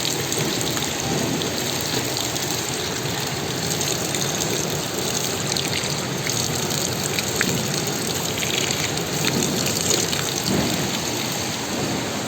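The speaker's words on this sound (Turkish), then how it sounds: "Buradan su akıyor arkadaşlar." Water rushes steadily through Ören Canyon near Fethiye, a dense broadband wash heard up close and continuous with no pauses or voices.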